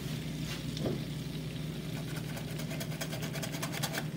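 Flour and butter roux sizzling steadily on a stovetop for potato leek soup, a continuous close crackle and hiss over a low steady hum, with no talking.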